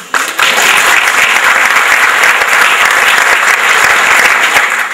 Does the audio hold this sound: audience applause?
yes